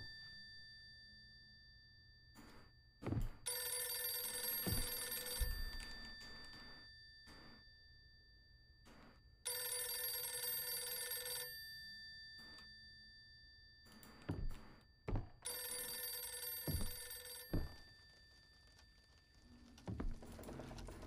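A telephone rings in the horror game Visage: three long, steady bursts of ringing separated by quiet gaps, with scattered thumps and footstep-like knocks between the rings.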